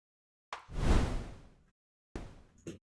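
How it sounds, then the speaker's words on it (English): An editor-added swoosh of wind noise rushes in and fades over about a second, followed after a short silence by two shorter, softer swooshes. "I'm going to use swoosh again, but not the exact same one. Let's try the noise, this wind noise."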